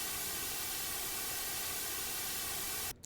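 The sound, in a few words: white noise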